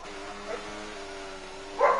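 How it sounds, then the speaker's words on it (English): Dogs bark outdoors at a distance, a couple of muffled barks with a louder one near the end over a steady low hum. "Sorry about the dogs barking outside."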